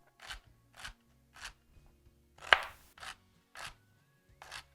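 Celery is chopped on a cutting board in seven evenly spaced crisp crunching cuts, one sharper and louder near the middle, close and clear against a quiet kitchen.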